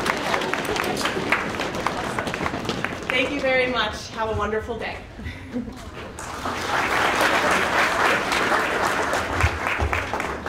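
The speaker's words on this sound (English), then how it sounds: "Let's give your parents a round of applause" An audience at a 2022 elementary school spring concert applauds the parents, a dense, sustained clapping that fills the room, with someone speaking over it at one point before the applause swells again.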